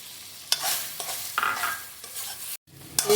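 Beef pieces are stirred and fried in a pan for a salted meat dish, with a soft sizzle broken by sharp scraping strokes of a spoon and a brief silent gap near the end.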